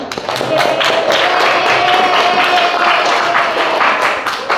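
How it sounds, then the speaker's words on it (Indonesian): A classroom of students applauds together, steady continuous clapping from many hands for several seconds, fairly loud and close. "Tepuk tangan."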